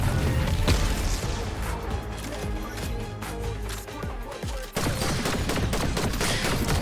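Gunfire in the video game Fortnite crackles as dense, rapid volleys of shots and impacts, loud and continuous with a sudden sharp burst near the end.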